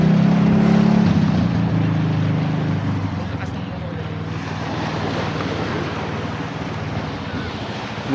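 A motorboat engine runs out on the open sea, a low steady drone that is strongest at the start and then sinks beneath heavy wind buffeting and the wash of waves.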